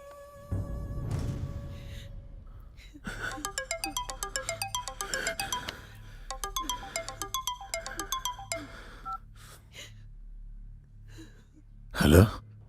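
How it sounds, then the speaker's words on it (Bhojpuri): A phone ringtone plays in repeated melodic bursts for several seconds, then stops; a short breathy sound follows near the end. "मेमन भाई अभी मैं उसको फोन लगाता हूँ।"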